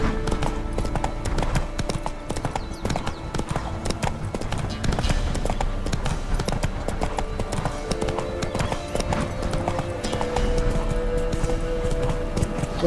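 Horse hooves clip-clop in a steady, brisk rhythm throughout, loud and close, in the video game Witcher 3: Blood and Wine, with no talking.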